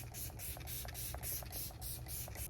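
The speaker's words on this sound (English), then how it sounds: "I should have already put some setting spray on." Makeup setting spray misted in rapid, even pumps, a steady run of short hissing bursts close by with no talking.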